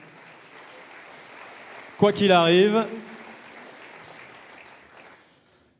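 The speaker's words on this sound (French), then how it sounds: "On les applaudit d'ores et déjà." Steady audience applause fills an awards-ceremony hall during a business trophy night, continuing for several seconds beneath a brief spoken phrase before tapering off toward the end.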